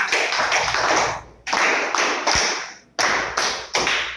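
Children in a classroom clap together in loud, sharp bursts, each one cut off and then started again, with the sound ringing in the room.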